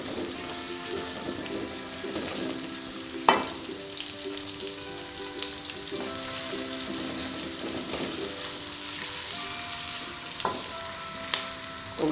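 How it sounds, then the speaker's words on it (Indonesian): Shallots frying in a pan for a tumis of oncom and leunca, a steady close sizzle with occasional scrapes and knocks of a utensil as they are stirred, no voices. "terus diaduk-aduk sampai matang dan"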